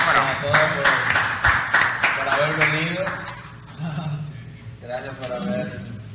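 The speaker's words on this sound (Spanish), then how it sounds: "y otro aplauso entonces para Viralatex" Applause from a conference audience at the close of a talk: a burst of clapping under someone speaking, fading toward the end as his voice continues.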